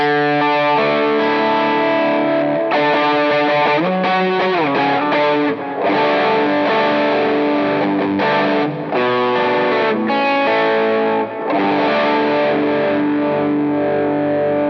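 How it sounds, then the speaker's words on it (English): Electric guitar through neural-captured overdrive drives on a Quad Cortex plays a continuous, gritty riff with chords and single notes, loud and close, with no talking. "here it is with some other neural captures of drives"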